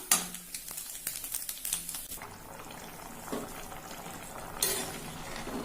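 Hot tempering crackles and sizzles into a simmering pot of pumpkin eriseri curry, with a bright splash and clink partway through, then steady bubbling and hissing.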